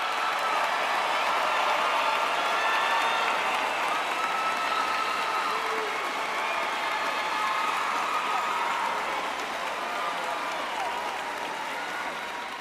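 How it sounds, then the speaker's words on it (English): Sustained applause fills a large Florida State University summer commencement venue as graduates with summa cum laude honors stand, a dense steady wash of clapping from a big crowd, fading slightly toward the end. "please stand so that we can applaud your dedication to academic success"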